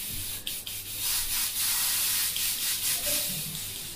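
An airbrush spraying with about 25 PSI in the main line gives a steady, close, loud airy hiss that holds level for the whole few seconds, with no voices.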